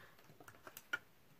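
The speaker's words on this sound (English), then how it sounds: "that was a very smooth shuffle" Tarot cards get a quick, smooth shuffle, a soft run of light papery ticks and flicks, faint and close, with no talking.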